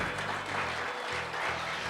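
An audience at a housing lottery ceremony gives a warm round of applause, steady and fairly loud, with a low humming tone running underneath.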